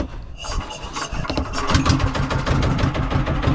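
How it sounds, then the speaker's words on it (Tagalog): A 10 HP boat engine is pulled and started, giving a loud, continuous rough rattle and mechanical churning close by, with no speech over it. "Para makapag-travel pa uwi, paandar ng makina."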